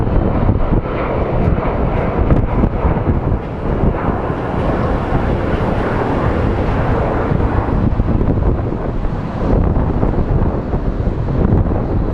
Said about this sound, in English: This should be a very quick takeoff.